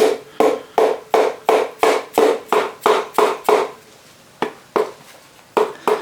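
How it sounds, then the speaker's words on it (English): A soft-face hammer gives light, evenly spaced taps to the top of a piston as it is pushed into the bore of a 215 V8 short block, about fifteen close, dull knocks with a brief pause near the end. "push on the top of this piston. Soft face hammer or soft handle,"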